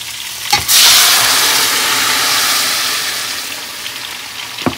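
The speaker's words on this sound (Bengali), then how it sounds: "ওই জন্য শিমটা ভাজা করে নিচ্ছি।" Flat beans hit a hot pan and break into a loud, steady sizzle close by, with a couple of sharp clatters at the start and end as they are stirred.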